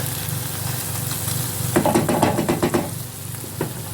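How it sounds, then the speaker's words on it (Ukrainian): Vegetables frying in a pan sizzle steadily, then a spatula stirs them with a run of quick scraping, clattering strokes in the middle, fading back to a soft sizzle with one more brief scrape near the end. "Перемішуємо наші овочі. Дивіться, вони смажились гарненько у нас."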